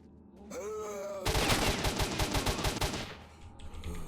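Bursts of rapid gunfire from enemies in S.T.A.L.K.E.R.: Shadow of Chernobyl, set in the X16 laboratory, crackle loudly in a dense volley after a short whooshing lead-in, then taper off into quieter scattered shots.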